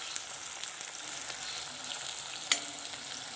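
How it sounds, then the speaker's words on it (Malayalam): Bitter gourd pieces fry a few at a time in hot oil, giving a steady, close, moderate sizzle with a single brief clink partway through. "കുറേശ്ശെ എണ്ണയിലിട്ട് വറുത്ത് കോരി എടുക്കാം"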